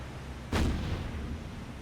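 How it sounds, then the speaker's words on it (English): Anti-aircraft guns firing in the War on the Sea naval video game, one sudden loud boom that rolls into a low sustained rumble with no voices over it. "The anti-aircraft fire goes up."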